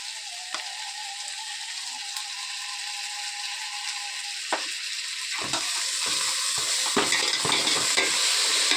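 Ginger garlic paste frying in a little oil in a pan, a steady hiss that grows busier toward the end, where several scraping stirs and clicks of a spoon break in.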